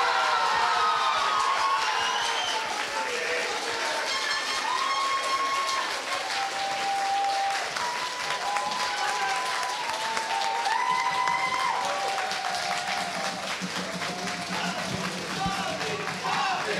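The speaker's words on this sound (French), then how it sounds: "on l'applaudit" Audience applause at the results of an eloquence contest, a steady clatter of clapping that lasts throughout, with tonal whistles or cheers and a voice speaking over it.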